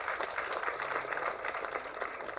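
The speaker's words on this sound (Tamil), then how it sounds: "அந்த மாபெரும் கலைஞருக்கு ஒரு கைத்தட்டல் அமோகமாக எல்லோரும் கொடுங்க." An audience at a film audio launch event applauds, a soft, steady patter of many hands clapping that continues at an even level.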